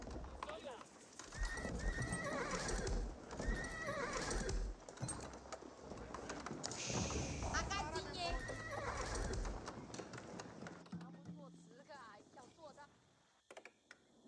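Horses whinny and hooves clatter amid busy Age of Empires IV sound effects, while someone talks over them and keyboard clicks tap in the background.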